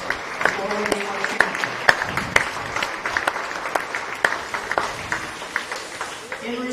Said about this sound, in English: I want you now in the crowd, I want you to put your hands together, congratulate all the youths who compete in this contest